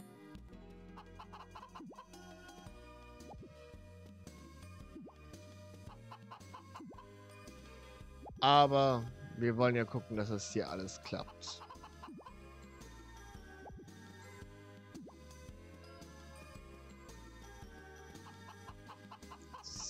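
Chickens cluck in the Harvest Moon: Magical Melody farming game, a short burst of bird calls rising over a steady game music bed in the middle. Someone talks quietly around it.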